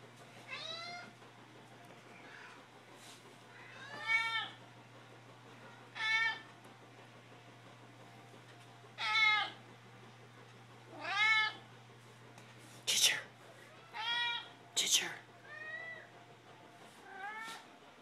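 Two cats meowing in a series of separate, drawn-out calls spaced a second or two apart, fairly close and clear over a quiet, steady low hum, with no talking.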